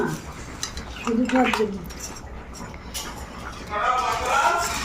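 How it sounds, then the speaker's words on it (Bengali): A mother-in-law ladling food into bowls in a home kitchen, with clinks of metal utensils and dishes, scraping and stirring under ongoing talk. "আমার শাশুমা এখন কি করছে সবার জন্য বাটিতে বাটিতে করে তুলে তুলে দিচ্ছে"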